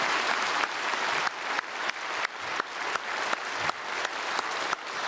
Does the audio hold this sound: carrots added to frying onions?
no